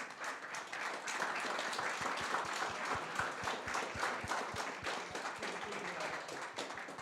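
Audience applause at the EdTech Hack 2024 final pitches: steady, fairly quiet clapping from a crowd that holds for several seconds, with a regular low thump pulsing underneath and some voices mixed in.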